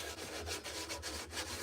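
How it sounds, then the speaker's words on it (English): A carved wooden spoon being sanded by hand, the abrasive rubbing in steady back-and-forth strokes, close and continuous with a faint low hum beneath. "You've been sanding something for a while with this"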